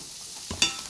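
Butter dropped into two hot cast iron pans for jumbo sea scallops, giving a soft close sizzle that rises with a brief sharp crackle burst partway through.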